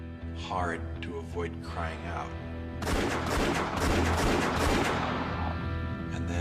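Several gunshots fired at a person, a burst of loud, dense gunfire and overlapping reports that erupts suddenly partway through and continues, following a stretch of muffled voices and ambient noise.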